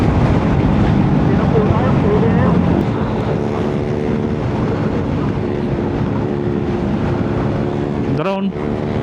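A drone flies overhead at a picnic ground in Aurora, giving a steady buzzing whine of layered tones over outdoor wind noise. Near the end there is a brief rising rush.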